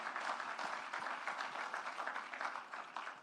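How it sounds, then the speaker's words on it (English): Audience applause at a regional investment and capital markets conference, a sustained even patter of many hands, moderately distant and fairly quiet. "Round of applause for"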